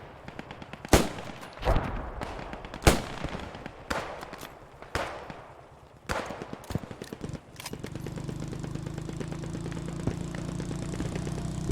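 Gunfire in the online shooter PlanetSide 2 during a competitive match: a string of sharp, irregular shots for several seconds, then a low humming engine drone takes over, with no talk.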